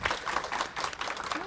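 A student audience at a literary magazine and club awards event gives a brief burst of clapping, close and uneven, mixed with some murmuring voices.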